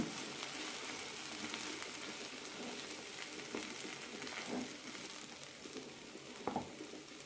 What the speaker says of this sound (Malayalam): ഇടയ്ക്കൊന്ന് ഇളക്കാം